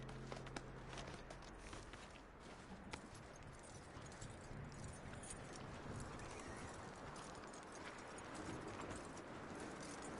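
Horse hooves clip-clop in the video game Red Dead Redemption 2, quiet and steady, with a possible brief whinny among the walking steps.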